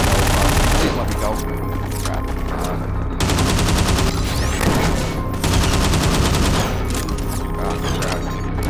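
Heavy overlapping gunfire in Garry's Mod, a dense barrage of rapid automatic shots that runs almost nonstop and stays loud and close, with brief breaks and voices mixed into the din.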